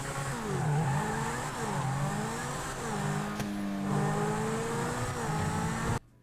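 A sports car in GTA 5 Online revs and drives steadily, its engine note rising and falling in repeated pulls, loud and close with no talk over it, cutting off abruptly near the end.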